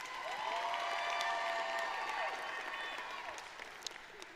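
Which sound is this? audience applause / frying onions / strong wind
audience applause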